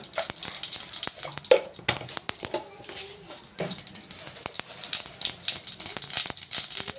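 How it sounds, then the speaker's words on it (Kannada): Mustard seeds hit hot oil in a pan while soybean palya is being cooked, giving scattered sharp pops and crackles over a soft sizzle, close and irregular. "ಆಯಿಲ್ ಬಿಸಿಯಾಗಿದೆ. ಸಾಸಿವೆ ಹಾಕೊಳ್ಳೋಣ ಸ್ವಲ್ಪ."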